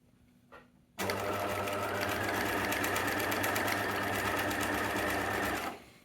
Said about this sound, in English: and then just stitch. Easy does it, just go slow, make sure that you're picking all the layers.